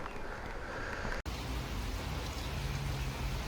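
Heavy rain falls steadily outside a hotel where motorbikes are parked, a continuous hiss of wet noise broken by one brief dropout, with no voices.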